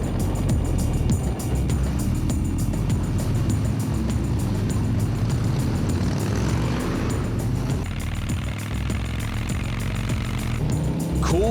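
Custom-built motorcycles run at full throttle on a long Texas road ride, a loud continuous engine roar with wind rush that holds steady for over ten seconds, close and unbroken.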